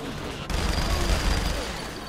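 Dense, rapid gunfire in Saints Row: The Third erupts after a brief quiet moment and continues as a sustained rattling burst.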